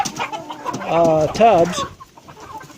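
Backyard chickens kept in tubs, nearly grown, cluck and call in a short burst of rising, wavering tones, close by, with someone talking over part of it.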